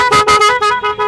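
A loud oversized horn fitted to a Splendor Plus motorcycle blares in a string of about six close, harmonic honks, strong and near, with no talk over it.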